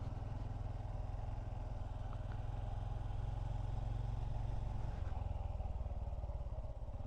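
A Honda Trail 125 motorcycle rides along steadily, its low engine drone close and continuous with a faint clatter, unbroken by talk.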